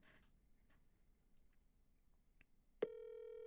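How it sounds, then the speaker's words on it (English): A telephone is dialed, with a few faint clicks and taps over quiet room noise, then a steady electronic line tone starts abruptly and holds on, loud and continuous. "We gotta make a phone call for help."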